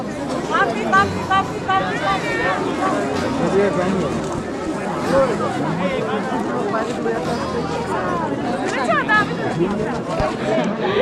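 Dense crowd chatter at Tiger Hill near Darjeeling at sunrise, many voices overlapping in a steady, close babble with occasional louder calls.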